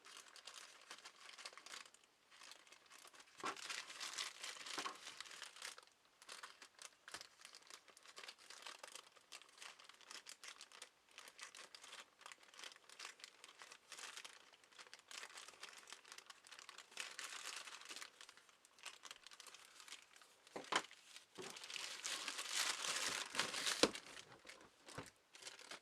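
A plastic shipping bag from Wish is opened for a switchblade pocket knife. It makes faint, steady crinkling and crumpling with brief tearing bursts, heard alone and close.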